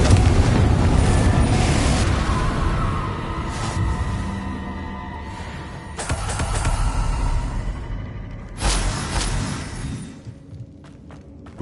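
Confringo blasting spells explode in the Hogwarts Legacy video game, a loud rumbling blast at the start followed by further booming bursts a few seconds apart, each fading out.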